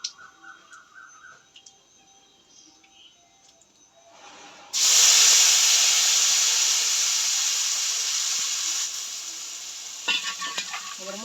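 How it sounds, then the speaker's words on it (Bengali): A water-mixed paste of turmeric, chili and coriander hits hot oil with a sudden loud, hissing sizzle. The sizzle stays strong, then slowly fades, with a few stirring knocks near the end. Faint clinks come before the paste goes in. "জল দিয়ে গোলাই না নিলে মশলাগুলো সব পুড়ে দেবো তেলে দিলে"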